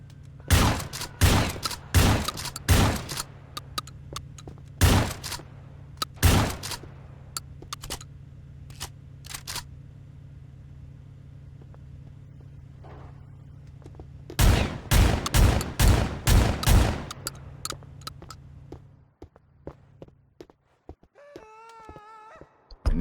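A purple AR pistol fires in the PC game Grand Theft Auto IV: two bursts of sharp, loud, close shots in quick succession, separated by a quiet stretch, ending with a faint rising wail.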